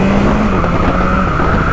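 A loud, sustained 2022 BMW S1000R motorcycle engine roar at high revs, close and steady, with a rising whine for the whole short stretch.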